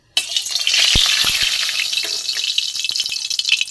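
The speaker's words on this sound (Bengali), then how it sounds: "বটবটির ধোকা আমি এবার ভেজে নেবো একটা একটা করে।" Gram flour dhoka pieces sizzle loudly in hot mustard oil in a kadai, a steady close frying hiss with a few light clinks of a utensil.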